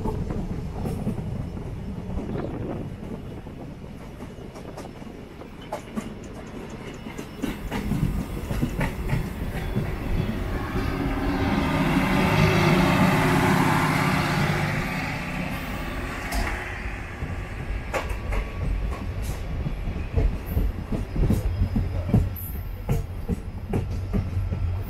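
Madgaon Express passenger train running steadily on the Mangalore–Madgaon line as it approaches Murudeshwar station, with continuous near rumble and clickety-clack of wheels, swelling in the middle, and no talk.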